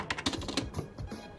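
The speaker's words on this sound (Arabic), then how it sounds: "هو الكيبورد مش ميكانيكال، بس كأداء صوتي بالنسبة للزرار المرفوعة" Rapid keystrokes on a cheap non-mechanical gaming keyboard with raised keys, part of a budget gaming combo, tapping close and fairly loud in a quick, uneven run for just over a second.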